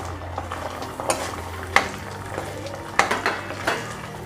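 Three bay leaves and four dried red chilies fry in a pan for a chicken curry tempering, with low sizzling under sharp metallic clinks and scrapes of a stirring spoon, close and without talk.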